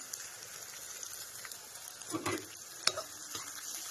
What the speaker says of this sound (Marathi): तेल गरम हिरवी मिरची लसण आणि कांदा हे टाकून घेतलेले आहे